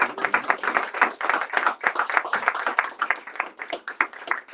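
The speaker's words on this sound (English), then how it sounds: "can we get another round of applause for Mr. Kenard?" An audience at a poetry reading applauds with dense, steady clapping that carries on for several seconds without pause, close and fairly loud.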